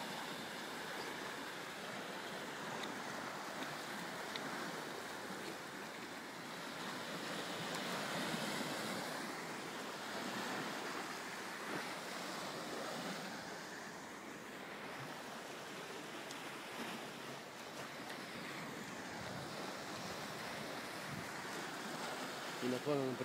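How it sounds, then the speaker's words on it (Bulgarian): Sea waves washing onto the shore make a steady, broad surf roar that swells and eases over the whole stretch, with wind buffeting the microphone and faint voices in the background. "Напълно прекрасното моренце."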